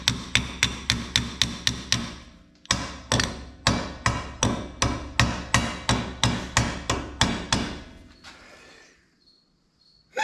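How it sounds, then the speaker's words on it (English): Sharp metallic hammer taps on a Ford 9 inch axle during pinion seal repair, about twenty in a steady rhythm with a short pause partway, close and loud, then a quiet tail. "Let me get out my trusty hammer."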